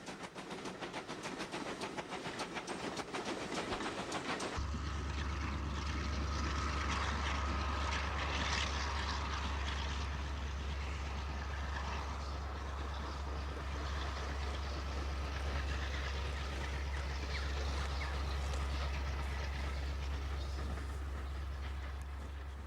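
A Great Western steam train on the West Somerset Railway branch line rumbles steadily after a quiet opening, a continuous low drone and broad noise lasting with no talk.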